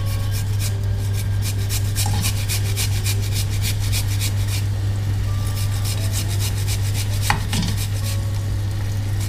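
Fresh ginger root rubbed over a grater in a home kitchen, a rapid run of rasping strokes over a steady low hum, with a single knock near the end.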